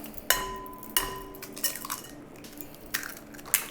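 Eggs cracked one after another into a bowl while making a spring frittata, sharp close clicks and taps of shell against the rim recurring at an irregular pace, with small wet drips between them.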